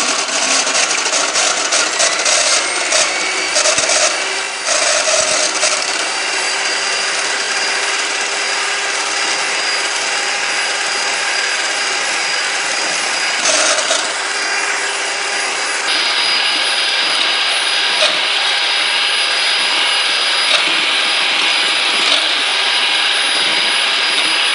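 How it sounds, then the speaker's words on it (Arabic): An electric hand mixer whips chilled cream for a strawberry cake, a loud, steady high-pitched whirring hum that runs without pause and shifts slightly in tone partway through. "غادي نطربوها مزيان طراب الكهربائي"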